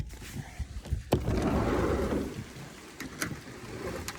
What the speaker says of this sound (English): It's Washington, you gotta deal with the rain.